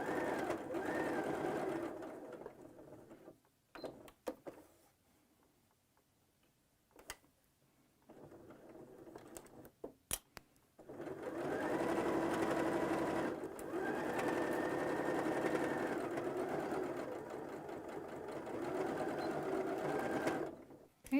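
A sewing machine stitches fabric with right sides together along a 3/8 inch seam line, including a backstitch, in several long whirring runs separated by pauses.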